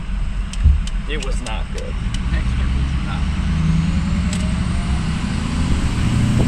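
Ford 6.0 Powerstroke diesel truck engine running steadily after injector replacement, a continuous low rumble from inside the cab with a brief voice over it.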